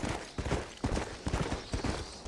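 Horse hooves clip-clop in steady, rhythmic beats on the ground as a horse is ridden in Red Dead Redemption, close and fairly loud, with no talking.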